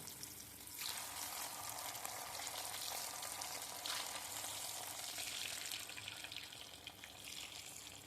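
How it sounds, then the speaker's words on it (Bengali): Boiled potatoes hiss and bubble as they drop into hot oil in a wok, a soft steady sizzle that rises with each addition and continues quietly. "তেলটা গরম হয়ে গেছে এবার আমি এর মধ্যে সেদ্ধ করে রাখা আলুগুলো একে একে ছেড়ে দেবো"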